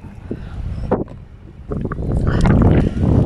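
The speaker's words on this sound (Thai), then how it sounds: "เริ่มมีลมแล้วจ้ะ" Wind buffets the microphone on a seashore at low tide, gusting and rising into a loud, rough rush by the end, with faint shuffling and water sounds underneath.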